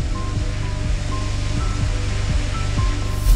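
A test aircraft rolls at speed through a water trough, with a dense roar of spray and engine rumble that stays loud and steady, pulsing in regular low surges.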